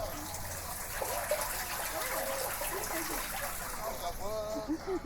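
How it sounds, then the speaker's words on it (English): Water gushes and trickles steadily along a street outdoors with no rain falling, a continuous rushing flow, while people talk briefly over it. "There's water running down the street."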